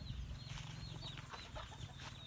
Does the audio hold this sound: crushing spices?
no